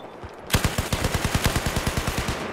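Rapid automatic gunfire in the video game Battlefield 4, a sustained rattling burst of about twenty evenly spaced loud shots at close range with no pauses.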